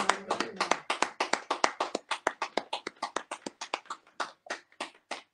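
A church congregation applauds together in a steady run of sharp, rhythmic claps that stay loud and close throughout, with a brief murmur of voices at the very start.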